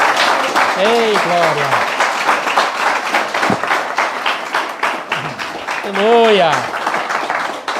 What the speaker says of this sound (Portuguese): Pode dar uma salva de palmas para o Senhor Jesus?